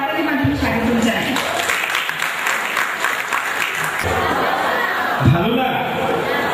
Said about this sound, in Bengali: আমরা সবাই তাকে করতালির মাধ্যমে স্বাগত জানাই